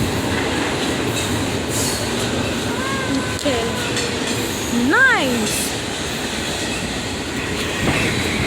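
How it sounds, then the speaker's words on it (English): A Metrolink commuter train rumbles past close by, with a steady rolling roar and brief squealing wheel tones in the middle; a voice speaks briefly over the noise. "There's going to be a metrolink train coming in a little bit."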